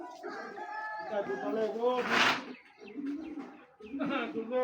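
Cobra pigeons cooing in a loft, with several low, rolling coos close by under steady talk and a brief rustling burst midway.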